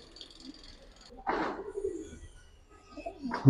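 Pigeons cooing in a loft of Silver Line giribaz flying pigeons, soft low coos rising in a couple of short phrases against quiet background rustle, fairly close.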